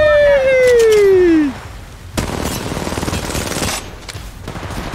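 Gunfire in the mobile battle-royale game Apex Legends Mobile: a rapid burst of shots over a falling whistle-like tone, followed by scattered distant pops and game ambience, with a voice faintly present.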